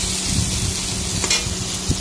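Potatoes fry in the same oil just used for frying boal fish in a village kitchen. A steady close hiss and sizzle is broken by a few soft knocks of stirring.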